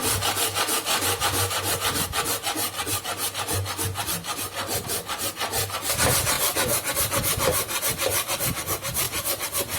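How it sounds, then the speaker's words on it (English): A block of ice scraped with a hand grater for gola, giving a steady, loud, rasping scrape in rapid repeated strokes throughout, close up with no talking. "See, we are grating the ice"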